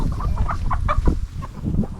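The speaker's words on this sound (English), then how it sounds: "there's a new, very pretty rooster right here" A pretty Barred Rock rooster clucking up close in a series of short, loud, irregular calls over low farmyard rumble.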